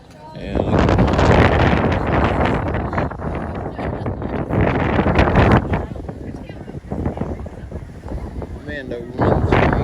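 Strong wind gusts buffet the microphone on the Top of the Rock observation deck, a loud, rough roar that rises and falls throughout while a person talks over it.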